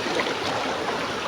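Fast river current rushing in a steady broadband wash, close and loud, with no break across the short stretch.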